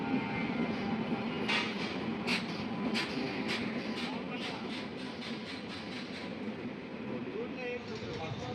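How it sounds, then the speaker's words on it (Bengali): The Dhauli Express, number 12821 from Kolkata to Puri, rumbles into the station with a low, continuous roll and a string of sharp metallic clicks from the wheels over the rail joints, fairly faint and steady. "দেখো 9:24 আসছে আমাদের ট্রেন"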